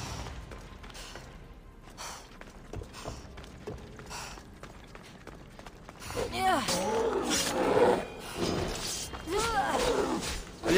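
Bears in the Assassin's Creed Odyssey video game give deep growling roars in the second half, loud and rough, following quieter game ambience, shuffling and a player's voice speaking Spanish throughout.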